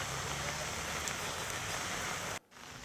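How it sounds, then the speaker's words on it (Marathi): Drizzling rain falls steadily over Ulhasnagar, a dense even hiss of drops that holds for most of the stretch before cutting off abruptly near the end. "आत्तासुद्धा सकाळ जो पाऊस पडतोय, रिमझिम पाऊस पडतोय"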